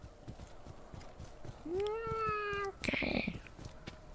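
In the video game Desolate, a cat gives a single drawn-out meow with a rising, tonal pitch, heard amid faint background game sounds and followed by a brief noisy burst.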